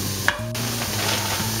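Frozen spinach cubes dropped into a heated pan for veggie lasagna: a short clack at the start, then a steady low sizzle and a faint hum continuing alone.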